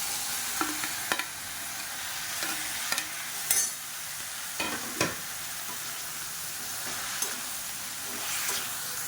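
Onions and tomatoes sauté in a pan under a continuous sizzle, while a spatula scrapes and clicks in scattered bursts, close and fairly quiet.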